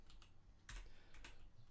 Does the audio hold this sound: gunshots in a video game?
no